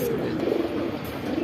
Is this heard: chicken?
no